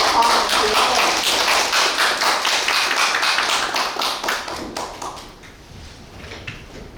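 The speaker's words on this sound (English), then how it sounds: "let's give a warm round of applause to invite Professor Yang Huanghua to the stage" Audience applause at an international pandemic treaty symposium welcoming a professor to the stage, a dense, loud roar of many hands clapping together that gradually thins and fades toward the end.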